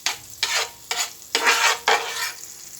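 Butter melting with a little cooking oil in a hot pan, four separate bursts of bright sizzling and stirring rising and fading in turn, close and clear with no talk.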